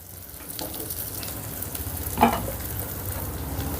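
Green peas fry in a pan for a simple vegetable curry. A close, steady sizzle runs throughout, with a sharp stirring clink partway through and softer scrapes.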